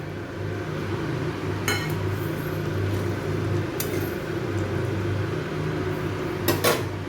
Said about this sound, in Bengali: এই জলটা আমি এর মধ্যে দিয়ে দেবো। আমি এর মধ্যে কাজু কিশমিশটাও দিয়ে দেবো।